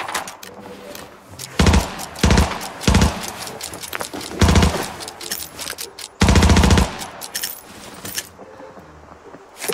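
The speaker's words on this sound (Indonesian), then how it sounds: "Ada tembakan di arah-arah tebing," Bursts of rapid gunfire in the video game Arena Breakout crackle in several loud volleys separated by pauses, with a faint background hum.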